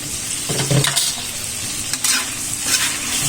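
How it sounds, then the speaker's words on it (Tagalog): Chicken wings being stirred through buffalo hot sauce in a pan, a close, steady sizzle with a few louder scraping stir strokes near the start and again later, with no voices. "Haluin lang hanggang lumasa ang ating buffalo wings."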